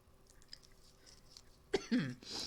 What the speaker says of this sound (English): Still recovering from a cough.